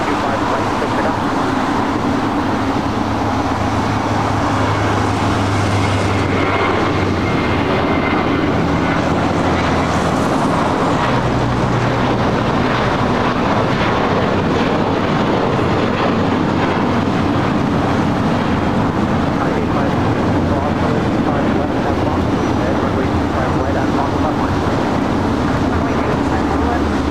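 A jet airliner landing on runway 25 right at Los Angeles International Airport, a loud sustained roar and rumble with wind buffeting the microphone, with voices talking over it throughout.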